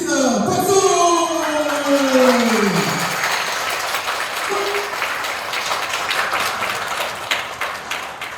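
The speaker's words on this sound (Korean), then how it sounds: "박수!" Congregation applause during a Sunday church service, dense clapping rising as a voice finishes speaking and then continuing steadily on its own.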